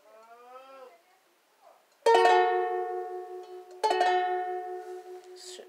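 Two strummed chords on a four-string instrument, each a bright, ringing strum left to decay, close and clear, preceded by a moment of brief talk.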